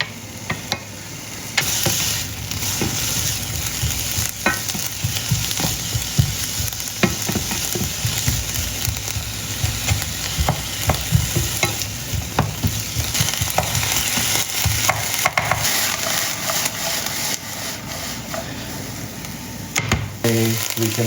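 Chopped peppers sizzle and sauté in a hot pan for a breakfast veggie egg bake, with a steady crackling fry and frequent scraping stirs of a utensil, close and loud for the whole stretch.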